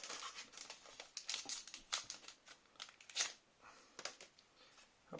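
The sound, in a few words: tearing open a Pokémon card booster pack wrapper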